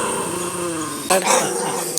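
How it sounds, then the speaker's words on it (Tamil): Puppies play-fighting, giving close, continuous low growls with a few sharper snarling bursts near the end; a voice speaks faintly in the background. "என்னடா நாய்க்குட்டிகளை சண்டை போட விட்டுட்டு வேடிக்கை இருக்கிறாங்க"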